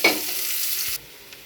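Chopped onions, nigella seeds and chili hit hot oil in a pan for a parshe fish dish, giving a loud, close sizzle and crackle for about a second before it drops to a quieter simmer.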